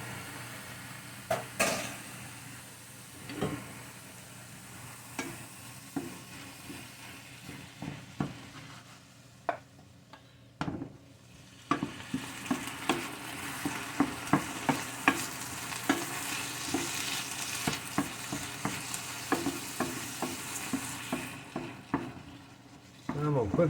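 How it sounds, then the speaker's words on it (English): Drained taco salad filling sautéing in a pan gives a soft, steady sizzle under scattered scrapes and taps of a utensil stirring, quiet and close. "Let me saute it just a minute."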